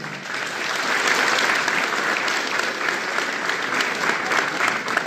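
Strong applause from the audience at a municipal public-works prioritization meeting in Teopisca, Chiapas, Mexico, a loud, close, continuous burst of many hands clapping for about five seconds.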